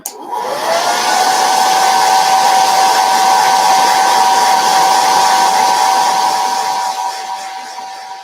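Handheld dryer blowing to dry chalk paste on a gingerbread firehouse craft, a loud steady whirring roar that spins up at once and runs continuously close to the microphone.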